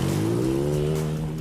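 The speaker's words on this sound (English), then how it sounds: "The midget cars race around the track that have been sprayed down with soda for traction" Midget race cars roar around an indoor arena track at the Dunkin Donuts Center, engines droning loud and steady with layered harmonic whine throughout, no voices over them.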